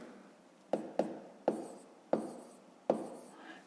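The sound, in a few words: writing down a math sum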